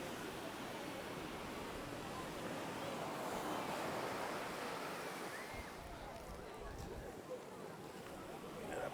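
Waves washing onto a busy public beach in Mombasa, Kenya, on a Friday evening, a steady, continuous surf roar with wind noise and a low murmur of people throughout.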